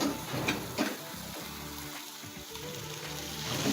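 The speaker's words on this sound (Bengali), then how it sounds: "এখন আমি একটু জল দেবো" Water is poured into a pan where tilapia cooks with cumin paste, garlic paste, turmeric and salt, giving a steady broadband hiss and sizzle that holds at an even, moderate loudness throughout.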